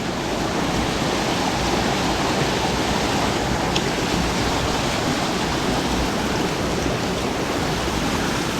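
A small waterfall pours steadily into a trout stream, a dense, continuous rushing roar that stays close and loud with no voices throughout.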